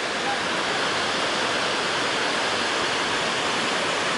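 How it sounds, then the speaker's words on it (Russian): A large waterfall roars as a steady, broadband rush of falling water, loud and close, unchanging for the whole stretch. "Да, водопад, конечно, серьезный."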